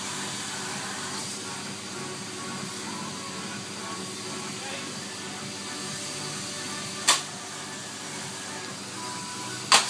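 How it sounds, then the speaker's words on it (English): A Hoover vacuum cleaner runs with a steady, even motor roar and hiss throughout, fairly close, with two sharp clicks near the end. "Half an hour later, Jack Reed has finally changed the bag on the Hoover."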